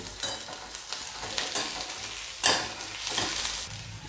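Vegetables with garlic and a little coriander fry together in a pan for a traditional village-style bhaji. A continuous sizzle carries brief scraping stirs and a sharper burst of hiss midway.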